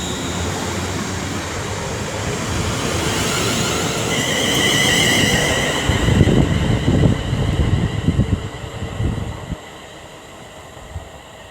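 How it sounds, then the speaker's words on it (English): A West Midlands Railway train passes at Marston Green on the West Coast Main Line, building from a distant rumble to a close, loud rush with clattering wheels over the rails before fading away. "West Midlands Railway service to Rugeley Trent Valley"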